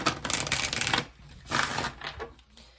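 A deck of tarot cards is shuffled close by, giving two bursts of rapid riffling and flapping separated by a short pause, then a softer shuffle; no talking.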